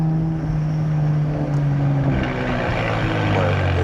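Nissan Z Nismo with a Nismo cold air intake, heard from inside the car as a loud, steady engine drone whose pitch changes gradually during a drive.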